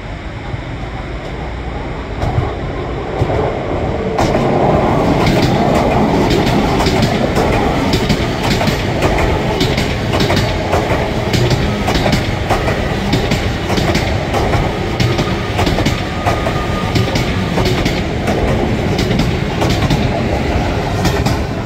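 An LNER train runs through Manors station in Newcastle, a loud, close, continuous rumble with steady rhythmic clickety-clack of wheels over rail joints for the whole stretch.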